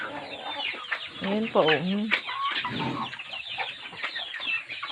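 Pet chickens cluck and squawk close by on a backyard farm, a busy overlapping chorus of clucks with one rising screech, while a person speaks briefly among them.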